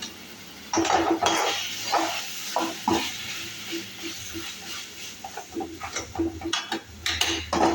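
A spoon works masala around a pan for rasam, with repeated close scrapes and clinks against the metal over a soft sizzle, in an irregular stirring rhythm without talk.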